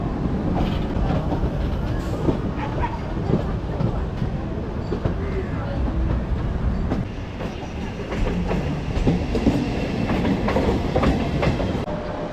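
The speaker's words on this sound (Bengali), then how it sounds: "সঠিক টাইমেই গণদেবতা এক্সপ্রেস ছেড়ে দিল হাওড়া স্টেশন থেকে" The Ganadevata Express pulls out of Howrah station in the early morning, its loud steady rumble and rhythmic clickety-clack of wheels on rails heard from aboard a general coach, continuous throughout.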